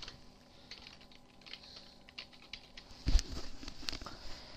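Typing on a computer keyboard while renaming a folder during a Metin2 private server setup, with a steady run of light, quick key clicks and a louder cluster of keystrokes near the end.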